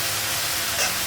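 Spices frying in a pan in a home kitchen, a short steady hiss of sizzling oil with a slight swell near the end.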